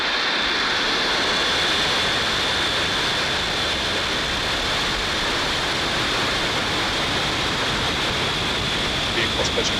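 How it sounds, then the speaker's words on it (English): Roaring broadband rumble of a rocket lifting off on the OneWeb 3 mission, heard from a distance as a steady, continuous wash of noise that holds at full strength throughout. "Just full power. And liftoff, OneWeb 3."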